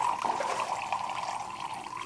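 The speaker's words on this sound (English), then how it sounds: "you open the hot water knob, purge out a little bit of water that's in the wand" Water purges from the steam wand of a Gaggia Baby Twin semi-automatic espresso machine in a steady, close hissing trickle that lasts about two seconds.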